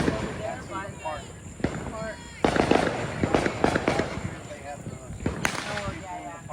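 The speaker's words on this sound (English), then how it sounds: "This is Bomba from Dominator Fireworks, my favorite 200-gram of the night." A 200-gram Bomba firework cake from Dominator Fireworks at a post-Fourth of July show, with a string of loud bursts and crackling from a short distance, while people talk throughout.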